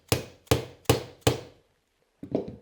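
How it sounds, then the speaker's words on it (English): Four sharp, evenly spaced hammer blows tapping a mount onto the rail of a Saiga 5.45 rifle, close and crisp, followed after a pause by a softer, duller knock. "You can hammer it a little bit."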